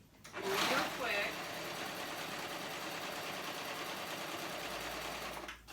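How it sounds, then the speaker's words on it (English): A serger top stitching the hem of a curved-hem pocket tank top runs in one steady, close, continuous whir for nearly the whole stretch, stopping just at the end. "Again, I'm using my serger, but you can just use your sewing machine, a straight stitch with your sewing machine right there for top stitching."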